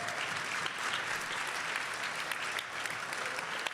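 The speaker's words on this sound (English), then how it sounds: "let's give him a round of applause" A live audience applauds steadily at a training boot camp event, a dense and even round of clapping that holds at full strength from start to finish with no talking over it.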